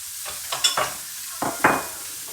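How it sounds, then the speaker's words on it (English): Butter dropped into a hot pan after a crust has formed and been turned, giving a few short bursts of sizzle with light scraping, spaced apart and fairly close. "I'm going to drop just a little bit of butter"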